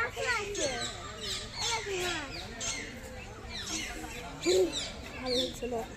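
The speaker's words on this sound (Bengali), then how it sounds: "এই যে গাছে টিয়া পাখি বসে আছে" Shrill, scattered parakeet calls chirp repeatedly from trees at Garchumuk 58 Gate tourist centre amid a busy outdoor background, with people's voices mixed in.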